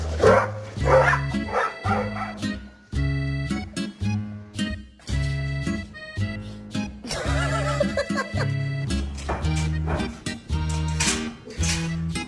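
A dog barking repeatedly in loud, close bursts with short gaps, some barks rising into yelping, whinny-like cries, no talking.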